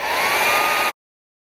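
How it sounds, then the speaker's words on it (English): A blow dryer drying a wig blows in a steady, loud, broadband whoosh at close range, running alone for almost a second before cutting off abruptly. "And then I'm gonna use the blow dryer to like really help it."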